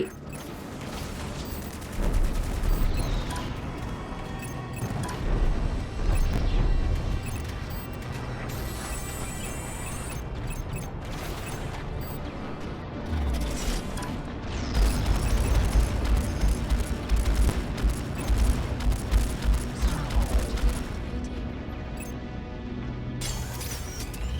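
Space combat in the video game Strike Suit Zero, with dense, continuous missile launches, gunfire bursts and explosions layered over mechanical clatter, loud and sustained with rising bursts of booms.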